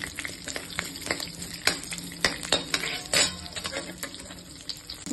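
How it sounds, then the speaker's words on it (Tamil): Lentils and green chillies sizzle in a pan for a cabbage curry, with a continuous close frying crackle broken by frequent metallic clinks and scrapes of a spatula stirring against the pan. "பருப்பெல்லாம் பொன்னிறமாக ஆற வரைக்கும் கொஞ்சம் இதை வறுத்து விட்டுக்கலாம்"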